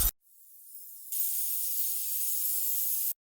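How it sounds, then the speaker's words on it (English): A fizz layer for sparkle sound design: a bright, airy hiss that swells in after a brief hit and holds steady for about two seconds before cutting off abruptly, alone with no voices. "And that fizz layer will work nicely."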